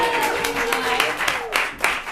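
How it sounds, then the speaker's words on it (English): A live improv comedy audience claps and cheers in a broad, continuous wash of applause, with bursts of louder clapping rising and falling over its short length and some voices mixed in. "Everyone, give them a round of applause"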